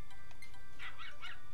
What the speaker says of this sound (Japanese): 犬が来たぞ、犬が。